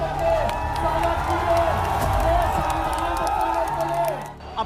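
A crowd claps and cheers at a Bihar political rally, a dense, loud wash of applause and shouts that holds steady before fading at the end, with a voice over it.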